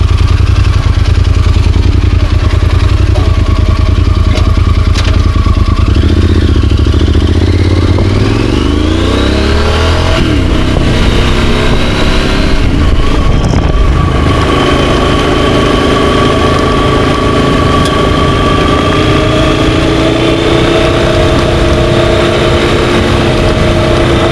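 A Yamaha Super Tenere 1200, a big heavy adventure motorcycle, is ridden on highway and gravel fire roads. Its engine drones loud and steady throughout, its pitch rising and falling as it accelerates, with no talking.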